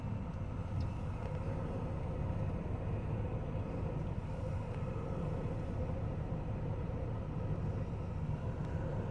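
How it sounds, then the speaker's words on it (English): A departing airplane rumbles from a distance over a Union Pacific rail ramp, a steady low roar that holds through the whole stretch with no speech over it. "another airplane leaving."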